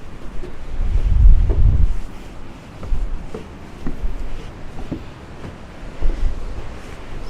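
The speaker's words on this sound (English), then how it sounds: "I don't think it's a good idea to sit here right now because it's too windy" Strong wind buffets the microphone in heavy low rumbling gusts outside a restaurant in Baku, Azerbaijan, with a steady roar of surf behind it.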